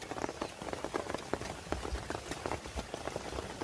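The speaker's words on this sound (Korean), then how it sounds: "비 오잖아" Rain falling at a campsite, a soft, faint patter of scattered drops hitting surfaces in an irregular rhythm, close by, with no talk.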